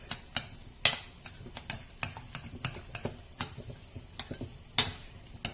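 Chicken tandoori marinade is stirred together with spices in a bowl for a quick tawa-cooked dish, heard as a run of light, uneven clicks and scrapes of a spoon against the container, fairly close and quiet, with no voices.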